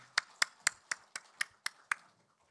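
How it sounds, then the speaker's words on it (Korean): Applause for a church choir during a Sunday worship service, heard as about eight evenly spaced, crisp claps that stop abruptly, quiet and close in a calm room. "우리 목자 성가대 우리 격려의 박수 해주시겠습니다."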